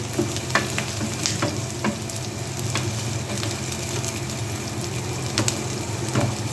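Chicken manchurian sautéing with vegetables in a pan, a continuous sizzle broken by scattered clinks and scrapes of a spatula stirring, close and fairly loud.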